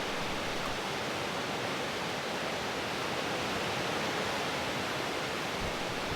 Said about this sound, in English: The waters of the Old Man River bounce off a series of sandstone shelves and drop into a deep green pool at the bottom